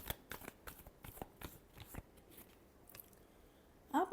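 Tarot cards being shuffled in a run of crisp riffling taps that thin out, ending with a louder burst of card flicks, close and with no talk.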